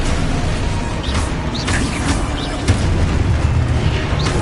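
Spell blasts and explosions boom through a dense, loud mix of Hogwarts Legacy combat audio on PS5, with sharp pops and bursts over constant rumbling game noise and no voices.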